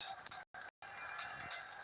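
Geese honking several times close by in short bursts, with brief gaps of silence, heard near a remote-control airplane.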